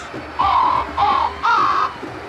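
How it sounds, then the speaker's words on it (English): A crow gives three loud, harsh caws in quick succession, each drawn out and close by, with nothing else competing. "Who pissed off the bird"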